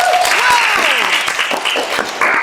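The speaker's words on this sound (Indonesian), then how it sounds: "Tepuk tangan buat Jar." Applause for a guest on an Indonesian talk show. It is loud and dense for a couple of seconds, with busy overlapping claps and a tonal sweep layered over it.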